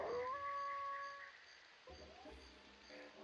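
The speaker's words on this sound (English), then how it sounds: "When Lupus howls," Lupus, a wolf-dog character in the N64 video game Jet Force Gemini, lets out a rising, sustained tonal howl in the game's audio that fades after about a second, followed by quieter game sounds.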